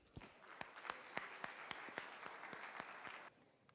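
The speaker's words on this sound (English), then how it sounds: "So round of applause for Christine and Jonathan." A small conference audience at a macOS security talk applauds two speakers, distinct individual claps blending into brief, moderately quiet applause that stops abruptly.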